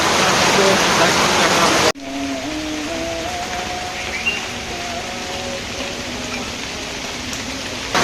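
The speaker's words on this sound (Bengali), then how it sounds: "বৃষ্টি চলছেই" Rain falling on a Bangladeshi village, a loud dense hiss that drops abruptly after two seconds to a softer steady patter, with faint tonal sounds and distant voices beneath.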